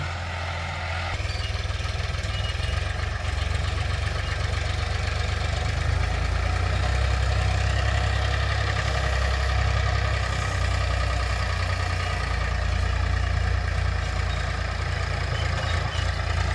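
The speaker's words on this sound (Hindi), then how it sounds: "ये भाइयों तीस एचपी का ट्रैक्टर है बहुत बढ़िया काम करता है" A 30 hp Farmtrac farm tractor engine idles nearby with a deep, steady rumble and a faint knocking beat, running unbroken throughout with no speech.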